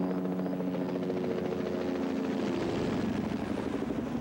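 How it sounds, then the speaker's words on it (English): A Bell Jet Ranger helicopter fitted with infrared heat-seeking gear flies overhead, its steady rotor thrum and turbine whine continuous and moderately distant, without voices. "It's a Bell Jet Ranger helicopter, specially equipped with infrared heat-seeking instruments."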